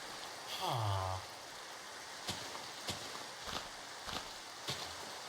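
Steady soft rain falls in the video game Minecraft, a quiet continuous hiss with a brief rising-falling tone near the start and several faint ticks scattered through.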